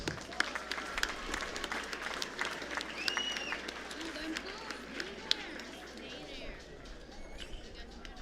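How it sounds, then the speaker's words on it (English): A crowd applauds at the Palau 2025 Pacific Mini Games closing ceremony, a long, even spread of clapping heard under amplified talk from the host, with a few sharper claps standing out. "another round of applause to the Cook Islands"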